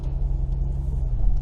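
Steady low road rumble inside a moving car heading to a tire service, close and continuous with no voices.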